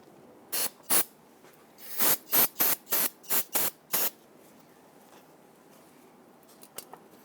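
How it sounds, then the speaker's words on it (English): Close, sharp hisses of a solvent spray can aimed at a Toyota Tundra brake master cylinder to clear residual brake fluid: two quick bursts, then a run of six rapid even blasts, followed by quiet. "don't forget to spray this down with some solvent"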